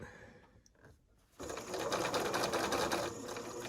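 A sewing machine runs steadily close by, stitching quilt pieces in a rapid even whir after a brief quiet start with a few faint handling sounds.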